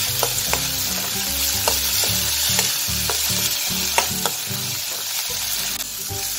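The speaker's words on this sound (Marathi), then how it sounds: "मी कढईमध्ये सर्व साहित्य टाकून तेलामध्ये फ्राय करून घेणार आहे" Loud, continuous sizzling of food frying in oil in a wok, with repeated scraping stirs and occasional clinks of a utensil against the pan.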